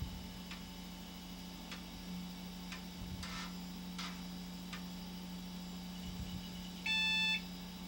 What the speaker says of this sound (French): L'ordinateur va faire un bip.